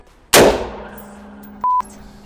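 A single loud AR-style Armalite semi-automatic rifle shot cracks sharply and rings off, followed by a brief electronic beep, up close.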